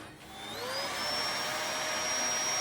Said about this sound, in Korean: 이 시끄러운 청소기 소리를 원하는 반려견이 있었으니